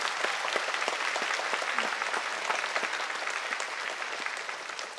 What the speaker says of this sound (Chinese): 我们把掌声送给我们各位家长。